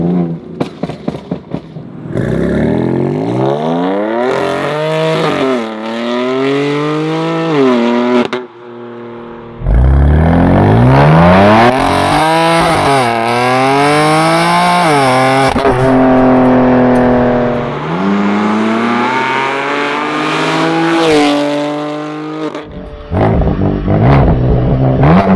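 A 700 hp BMW M4 tuned by Infinitas revs hard in repeated loud bursts, its engine pitch climbing and falling several times with crackling pops between, close and dominant.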